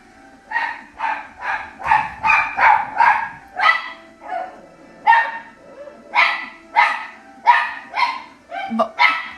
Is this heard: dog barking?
yes